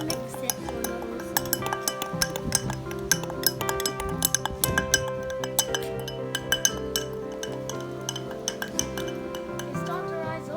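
Spoon clinking repeatedly against a glass while volcano experiment ingredients are mixed, a steady run of bright, close clinks and taps over a faint low hum.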